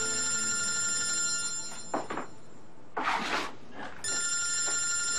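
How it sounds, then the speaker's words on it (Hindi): A telephone rings in a quiet room, with repeated electronic trills broken by a couple of short door or cupboard knocks. "किसका फोन है अब?"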